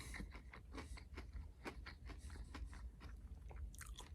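Crunchy breaded Thai chicken bites being bitten and chewed close to the mic, a rapid run of crisp crackling crunches with no talking, fairly quiet overall.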